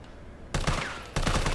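Gunfire in Resident Evil 3 gameplay: after a quiet lead-in, two loud bursts of rapid shots, each lasting about half a second, with no talk over them.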